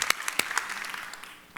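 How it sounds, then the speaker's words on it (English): Brief, thin clapping from an event audience honoring an MC, a few sharp individual claps over a light patter that tapers off within moments. "Let's give our MC a round of applause."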